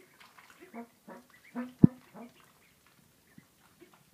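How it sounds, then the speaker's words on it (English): A baby Cayuga duck gives a few short, nasal honking calls, close and fairly faint, spaced out over a few seconds with quiet gaps and a sharp knock near the middle. "She's getting the duck honk."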